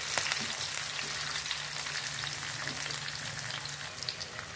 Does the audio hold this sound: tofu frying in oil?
yes